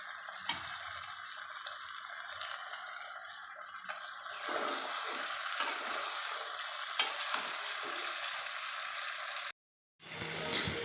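Chicken with yogurt sautés and gets stirred in a pot for biryani, a quiet crackling sizzle broken by scraping strokes and occasional clicks, which grows busier midway and cuts out briefly near the end.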